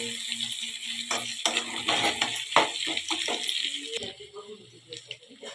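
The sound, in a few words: chicken legs being stirred while frying in a pan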